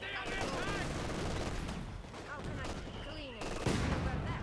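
Machine gun fire and other battle noise in the World War II strategy game Company of Heroes, with dense bursts of shots throughout, some whistling sounds and a louder blast near the end.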